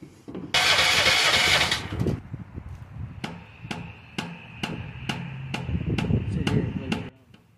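A 13.5 horsepower Briggs & Stratton engine on an AGT H12 mini excavator starting up: a loud rushing burst as it cranks and catches, then a steady running idle with rhythmic ticking pulses.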